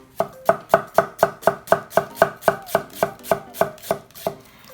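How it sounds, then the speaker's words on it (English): A Mercer chef's knife slicing through an onion on a cutting board, about fifteen crisp, even knocks in a steady rhythm, close and clear with nothing else audible. "So here we have an onion. Let me go ahead and lop this off, and I'll just do a just a normal slice"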